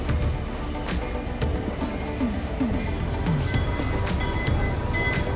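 Railway station in Aguas Calientes, Peru, with a train present: a steady rumble and clatter of rolling stock runs throughout, with brief squeals, metallic clanks and sharp transient knocks rising over the continuous near, loud background.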